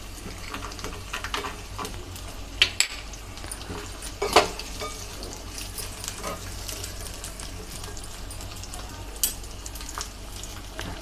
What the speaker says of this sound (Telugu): ఇప్పుడు దీంట్లోనే కాజేసుకుందాం